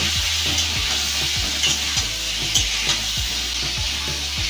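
Vegetables with turmeric and salt are stirred in a hot pan for khichuri. A spatula scrapes rhythmically about every half second over a steady, loud sizzle, with no talking.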